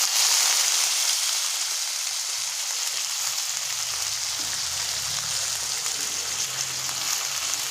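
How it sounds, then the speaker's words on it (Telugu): Cabbage hits a hot pan of Indian tempering for cabbage curry and sizzles in a steady, even hiss, with a soft lower rumble building partway through and no one talking. "పోపు బాగా వేగిన తర్వాత మనం క్యాబేజ్ వేసుకోవాలి."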